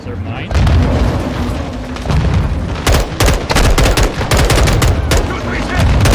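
Grenade explosions and gunfire in the video game Modern Warfare II: loud, heavy booms mixed with rapid bursts of automatic fire, the shots coming in clustered volleys with brief pauses between.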